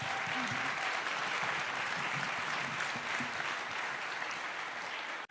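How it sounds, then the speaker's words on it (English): An audience at Global Citizen NOW 2024 breaks into dense, even applause that holds steady for several seconds and cuts off abruptly. "Big round of applause for all their successes and the important work that they're doing"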